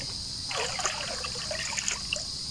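River water flows and trickles close by at a riverside fishing spot, a bright babbling gurgle with small splashy bursts over a constant hiss.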